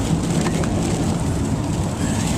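Heavy pouring rain falling steadily outdoors, a loud continuous dense hiss and patter with no break and no voices.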